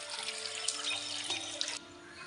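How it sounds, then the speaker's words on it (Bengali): Water poured into a cooking pot holding rice and lentils with turmeric and salt, a steady close splashing rush lasting under two seconds, then stopping abruptly. "দিয়ে দিচ্ছি পানি।"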